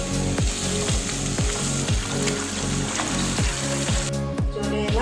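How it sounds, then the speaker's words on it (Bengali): Spice paste frying in hot oil for coconut chicken curry, a steady close sizzle with repeated rhythmic scraping strokes of a spoon stirring the pan, no talking. "ভালো করে মশলাটা কষিয়ে নেব"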